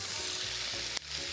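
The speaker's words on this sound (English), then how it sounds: "Oh, so it's going to have a nice little sear on there." A chicken salad sandwich on wheat bread sears in a hot pan with a steady, close sizzle, broken once by a brief sharp clack as it is handled.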